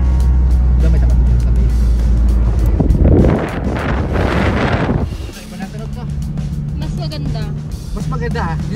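Ford Mustang engine and exhaust rumbling loudly nearby, a deep steady drone with wind buffeting the microphone, then revving up before settling into a lower idle.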